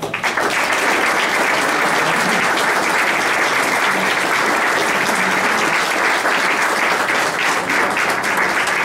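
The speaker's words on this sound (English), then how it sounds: "Please give them a hand round of applause." A crowd at a Mason City, Iowa civic awards ceremony gives a loud, sustained round of applause, dense clapping filling the room without letup.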